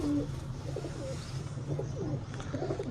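Pigeons kept in an enclosed coop coo softly and repeatedly against a low, steady background hum.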